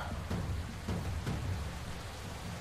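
Heavy rain in a video game hisses steadily as a dense, even downpour, with soft low thumps pulsing underneath and no voices.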